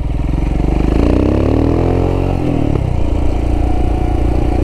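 A Royal Enfield Himalayan fitted with a big bore kit and cam revs loudly and close up, the engine note climbing through a throttle blip, dropping off, then settling into a lumpy idle.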